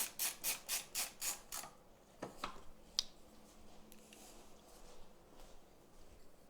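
Larger screws driven into the outer holes of an LG 49-inch TV backlight panel: a run of six rapid ratcheting clicks up close, then a few softer scrapes and taps, faint and alone.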